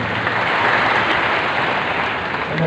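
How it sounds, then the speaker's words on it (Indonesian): A church congregation applauds in a steady, dense wash of clapping that fills the whole moment at even loudness, with no voices standing out. "Tepuk tangan sekali lagi yang paling meriah."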